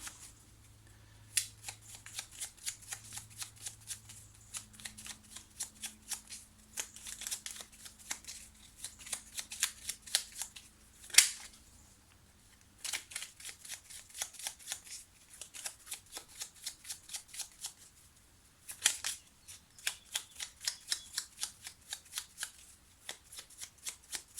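Petit Lenormand fortune-telling cards are shuffled in steady bursts of quick riffling flutters, with a few brief pauses and a sharper snap midway, close and fairly quiet.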